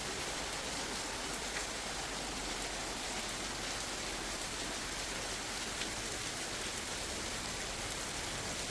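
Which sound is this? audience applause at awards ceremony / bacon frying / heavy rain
heavy rain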